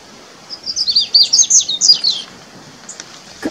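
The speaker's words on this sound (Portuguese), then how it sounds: "Cantando aí o baiano, que é uma ave também" Baiano, also called pata-capim, singing beside a trail at Bom Jardim: a quick series of thin, high chirping notes for about two seconds, close and clear, then a brief faint call at the end.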